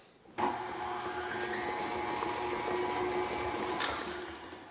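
Stand mixer with a paddle attachment beating lemon cake batter, its motor starting abruptly and holding a steady whirring hum throughout, a single clack near the end, with no talking.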